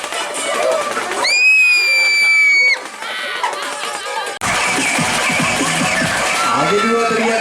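A crowd screams on a Kora Kora swinging-ship fairground ride at a Saturday-night fair in Kisaran, with a sustained shrill group scream followed by a dense burst of shouting and cheering, and people talking over it.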